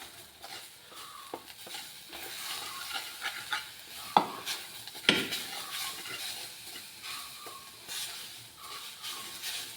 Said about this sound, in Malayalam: അപ്പോൾ നമുക്ക് നമ്മളെ ചീരയും കൂടി ഒന്ന് ഇളക്കി കൊടുക്കാം.